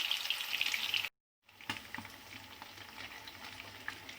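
Chicken wings fry in oil over a medium-low flame, giving a soft, steady sizzle. It cuts out briefly after a second, then returns quieter with a few light clicks, faint and close, with no talking.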